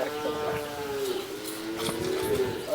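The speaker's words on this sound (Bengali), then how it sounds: "এখানে কি পরিমাণ ছোট বাছুর আছে?" Calves on a cattle farm low and moo repeatedly in overlapping calls, several animals close by, with a steady mooing chorus running through the whole stretch and no talk.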